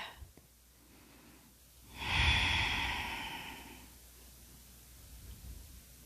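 A single deep, slow exhale during a yoga session for runners swells suddenly and then fades gradually, close and breathy with nothing else heard.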